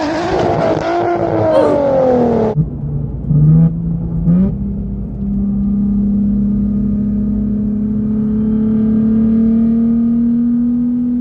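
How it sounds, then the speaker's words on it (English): A tuned 700 WHP 2023 Nissan Z engine screams at high revs close by, then drops to a quick blip or two before settling into a steady, sustained rising drone. "There's something about this car in the upper RPM range that just sounds so good."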